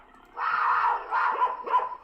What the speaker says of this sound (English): So play the bark